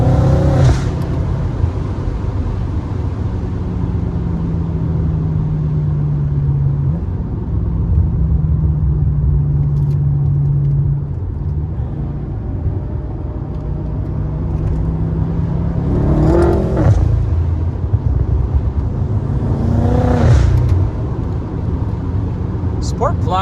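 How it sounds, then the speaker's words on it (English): A BMW F10 M5 with a Stage 2 tune running on an E85 mix accelerates in Sport Plus, its engine droning steadily with rising pitch sweeps and gear changes, loud and close, while someone talks over it. "Sport Plus, you'd like tap the gas pedal and she's going."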